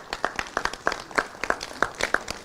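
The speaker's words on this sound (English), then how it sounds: "Please, I especially want you to clap for these presenters." A small audience at an afternoon award session of the Nigerian NES 66th annual conference claps for presenters, sparse individual hand claps landing in an uneven, fairly steady rhythm, close and moderately loud.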